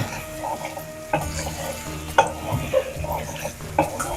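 Chicken fries in a pan with coriander paste added, a low bubbling sizzle under repeated scrapes and knocks of a spoon stirring against the pan at irregular intervals.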